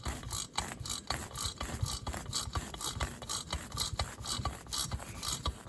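A SAV-A-THREAD insert is worked into a stripped spark plug hole, giving a close, steady rhythmic ratcheting and grinding rasp of metal threads that repeats throughout.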